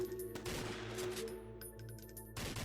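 Bursts of rapid automatic gunfire crackle in a dense, continuous volley, with a brief lull before another loud burst near the end.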